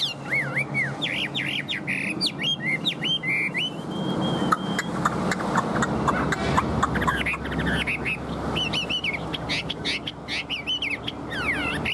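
A caged hwamei songbird sings loud, varied whistling phrases close by, with rapid trills and rising and falling notes repeated throughout, over a steady background hum.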